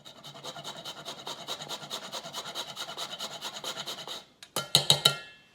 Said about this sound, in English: we're gonna grind our nutmeg.